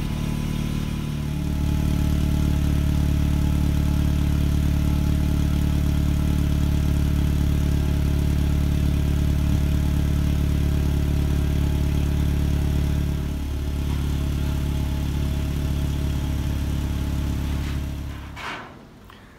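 A Mercedes-Benz W202 idles as it warms up, a loud, close, steady engine drone with a deep low rumble that holds even for most of the stretch before cutting off at the end.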